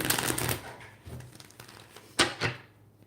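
A tarot deck shuffled back together by hand, a few close riffling and tapping bursts separated by brief gaps, with no talk over them.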